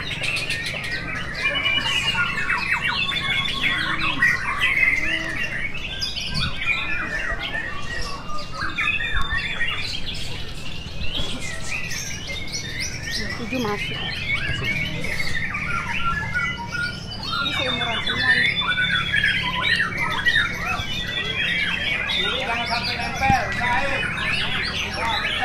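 A white-rumped shama (murai batu) calls with sharp whistles and squawks over a dense, unbroken chorus of other chirping birds that fills the whole stretch.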